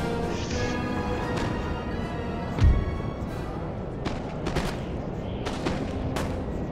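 Cannon and musket fire in the Napoleonic battle game Napoleon: Total War, with a few sharp reports over a busy battlefield din, one louder boom standing out midway.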